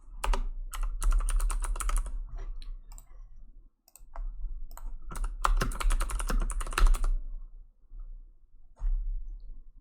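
Rapid computer-keyboard typing in two long bursts separated by a short pause, with a final brief flurry of keystrokes near the end; close and fairly loud, with no voices.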